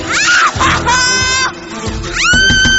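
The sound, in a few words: someone screaming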